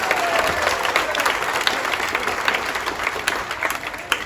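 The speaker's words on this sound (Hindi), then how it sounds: "एक बार जबरदस्त तालियां।" Enthusiastic applause from a seminar audience in Indore, dense continuous clapping at moderate volume that holds steady throughout.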